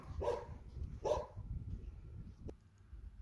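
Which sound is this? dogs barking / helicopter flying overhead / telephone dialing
dogs barking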